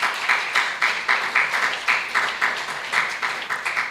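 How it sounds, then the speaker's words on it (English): At a school science fair awards ceremony, a small group claps for the students in a fairly steady rhythm of distinct, evenly spaced claps. "So give them a big round of applause for that"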